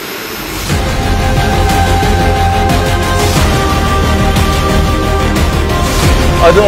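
The jet engine of a Bayraktar Kizilelma drone spools up from silence into a loud, sustained whine with rising tonal layers and a steady roar, heard close.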